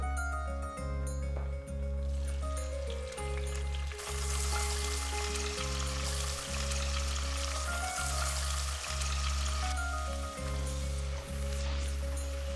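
Onion paste fries in a pan, with a steady, loud sizzle that swells after a few seconds and runs on without pause over a persistent low hum.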